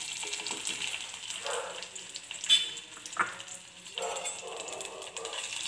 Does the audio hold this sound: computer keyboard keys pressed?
no